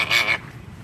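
A single short nasal honk from a goose or similar waterfowl, loud and close, followed by quiet background.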